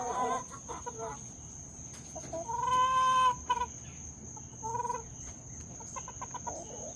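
Backyard hens and a rooster clucking near and far, scattered calls building to one loud drawn-out squawk midway, with a steady high hum in the background and no talk.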